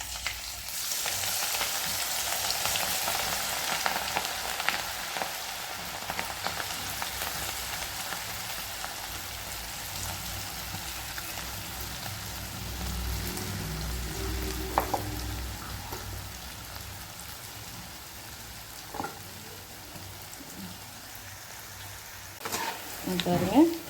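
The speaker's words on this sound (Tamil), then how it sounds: "காலிஃப்ளவர் சில்லி நல்லா மொறுன்னு பொரிச்சாச்சு" Cauliflower chilli pakoda pieces sizzle and crackle steadily in hot oil, a dense frying hiss that runs throughout with occasional stirring clinks and faint background voice.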